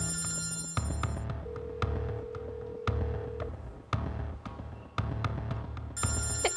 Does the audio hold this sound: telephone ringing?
yes